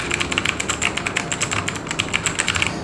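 Rapid clicky keystrokes on a Portronics K1 mechanical RGB keyboard, a fast, uneven run of sharp close-up clicks with no talking.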